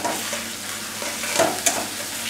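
A spiced vetki fish curry gravy bubbles and sizzles in a pan, a steady close hiss broken by a couple of sharp ticks near the end.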